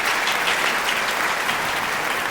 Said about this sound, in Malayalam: നല്ലൊരു ക്ലാപ്പ് കൊടുക്കാം വീണ്ടും.